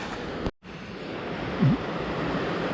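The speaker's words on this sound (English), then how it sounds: "you get those nice babbling river kind of sounds" A river rushes along a forest trail near Tamanawas Falls, a steady broadband wash of flowing water with a brief dropout early on, heard alone with no voices.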